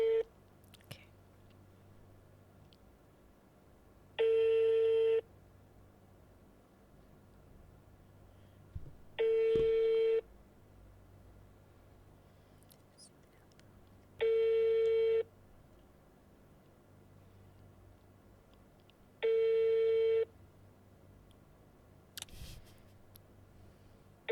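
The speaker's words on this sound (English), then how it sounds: "Let me try and call my best friend." A phone call rings out on loudspeaker, with four evenly spaced ringback tones each lasting about a second, clear and close, separated by long quiet gaps that hold faint murmuring.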